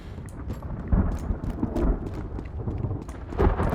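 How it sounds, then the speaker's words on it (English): Thunder in the survival shooter Road to Vostok rumbles loud and continuous beneath a heavy torrential downpour, with sharper crackling peaks rolling through the steady roar of the storm. "The thunder is unbelievably loud."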